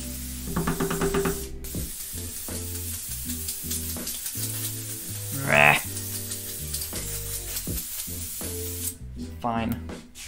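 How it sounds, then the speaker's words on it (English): An airbrush sprays gray paint onto a T-shirt with a steady, continuous hiss of air that holds throughout, while a person talks over it. "You want to hold down the air the whole time when you're painting and just use the front back motion of the airbrush to vary your line width"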